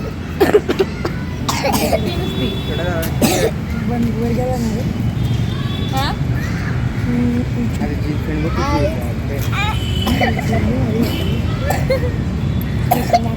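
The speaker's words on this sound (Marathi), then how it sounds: "तिघांना पण खोकला आलाय" Three children cough in a home, with repeated short, sharp coughs and throat-clearing scattered across the clip and people talking between them.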